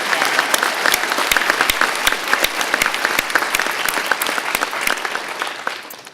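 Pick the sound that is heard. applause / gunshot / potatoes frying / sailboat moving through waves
applause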